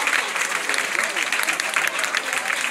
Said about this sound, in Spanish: Fuerte el aplauso, gracias chicos